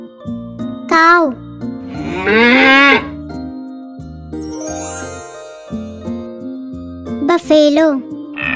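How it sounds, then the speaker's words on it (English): A cow lows once, a drawn-out moo with a rising, wavering pitch, set between short spoken words over a soft tinkling musical background. "Cow."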